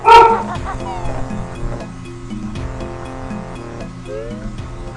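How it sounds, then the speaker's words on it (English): A pet dog barks in the background, a few short yips under loud video game music and sound effects from Banjo Tooie. "that is my dog barking in the background"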